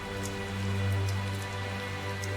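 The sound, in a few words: rain falling, from the video game Tales of Zestiria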